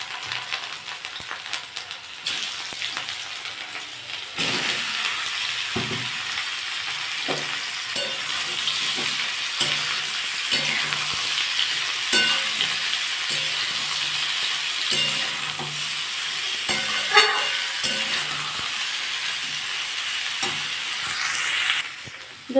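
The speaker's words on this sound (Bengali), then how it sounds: "আমি এই ফুলকপিগুলো একটু হালকা ভেজে নেবো।" Cauliflower pieces lightly frying in a pan, a steady sizzle and hiss with occasional stirring scrapes, close and continuous.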